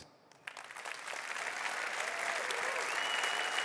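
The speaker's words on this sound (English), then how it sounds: "please give a big round of applause to all our nominees who are present tonight" A crowd at a green awards ceremony applauds the nominees present, the clapping starting faintly, then swelling within a second into a steady, full round of applause that continues to the end.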